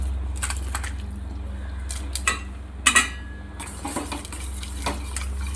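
Ada and sago stirred in a cooking pot for Kerala-style ada pradhaman payasam, with irregular metallic clinks and scrapes of a spoon against the pot over a steady low hum, close and fairly loud.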